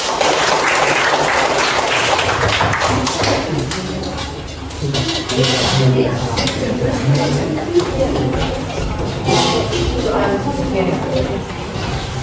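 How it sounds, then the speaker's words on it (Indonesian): A classroom gives brief applause for a student group after its presentation, a burst of clapping at the start that fades as people begin talking over the room. "tepuk tangan untuk kelompok 4"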